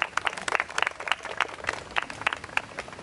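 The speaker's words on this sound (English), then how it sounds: "please give a huge round of applause for everyone here" Wedding guests applauding at a vow and ring exchange ceremony at a beach villa resort, a steady run of scattered hand claps from a moderate-sized crowd, fairly close, with no talking over it.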